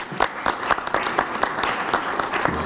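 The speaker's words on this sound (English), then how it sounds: "Let's give Cindy a great big round of applause" Applause rises at a film commission news conference as the board chair is introduced, a short burst of steady clapping from a modest crowd, fairly close and even throughout.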